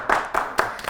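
A few sharp, separate hand claps ring out in a TV talk-show studio as a guest, a singer and host, is welcomed, spaced roughly evenly and fairly close.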